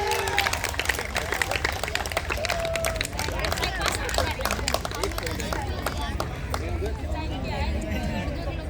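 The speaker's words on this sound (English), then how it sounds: "A big round of applause" Audience at a National Science Day prize ceremony in Gandhinagar claps for the winning school, a steady, dense wash of clapping mixed with crowd babble and cheering that continues throughout.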